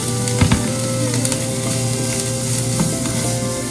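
Onions, chilli and grated carrot fry steadily in a pan, a continuous close sizzle with a few stirring scrapes near the start and again later, no voices.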